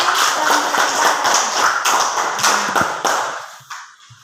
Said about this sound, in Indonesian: tepuk tangan untuk kelompok Jati